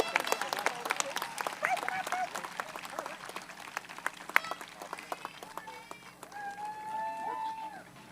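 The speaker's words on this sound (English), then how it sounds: "Could I have one more round of applause" A crowd at an eighth-grade school celebration applauds in a dense, lively patter of claps, with whoops and voices rising over it as the clapping carries on.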